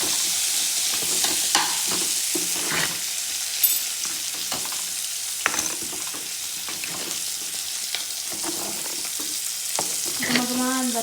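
Garlic tempering crackles and sizzles steadily in hot oil in a pan for a mango curry, with a continuous close frying hiss and scattered pops and spoon clinks of stirring, no talking.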